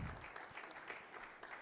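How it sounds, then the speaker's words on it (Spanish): An audience at a university forum on artificial intelligence and human rights gives a brief round of applause. The clapping sounds faint and distant, as if heard from across a hall. "Te despedimos con un aplauso"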